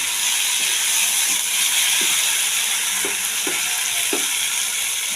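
Onion, potato and onion-garlic paste frying together for a tangra fish curry, a loud continuous hissing sizzle close up, with a few soft stirring knocks toward the end and no talking.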